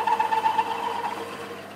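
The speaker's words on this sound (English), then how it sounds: "Vibrating a little bit, that's what that noise is." A stainless steel bar vibrating as it is cut to make a lap steel guitar tone bar, a steady metallic whine with a fluttering ringing tone that slowly fades, with no speech.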